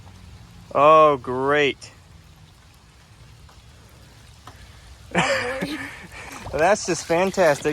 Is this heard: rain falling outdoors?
yes